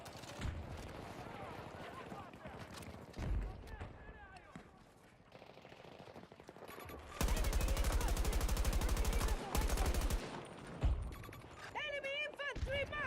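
Automatic gunfire in the Battlefield 2042 video game crackles in scattered shots and then a sustained burst of rapid fire lasting several seconds, loud and close, with voices talking around it.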